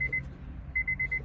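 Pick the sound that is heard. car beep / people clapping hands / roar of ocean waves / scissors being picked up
car beep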